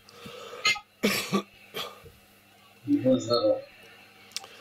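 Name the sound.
cough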